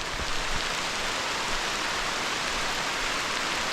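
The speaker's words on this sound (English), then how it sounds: "It's raining really hard now." Heavy rain pouring steadily in a Martinique rainforest, a dense continuous hiss of water falling on foliage, loud and unbroken.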